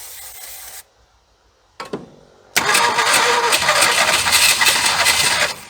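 A 1976 Ford F150, abandoned for over thirty years, cranks with a short grinding burst after a quiet pause, then catches into a loud, rough, sustained rasping run close by.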